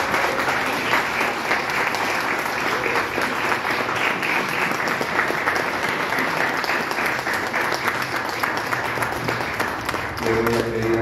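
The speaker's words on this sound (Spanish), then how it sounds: "Recibámosla con un fuerte aplauso." A crowd at a ceremony presenting a young woman to her guests gives strong, steady applause for several seconds, and a voice begins speaking as the clapping ends.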